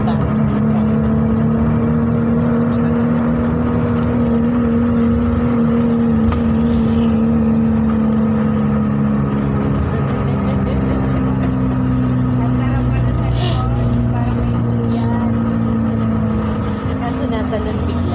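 Bus engine and road noise heard from the back seat on a trip to Bicol, a loud, steady droning hum with rumbling road vibration, continuous throughout, with voices faintly mixed in.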